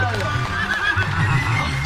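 A horse gives a short, wavering whinny close by, heard briefly alongside low voices and background noise.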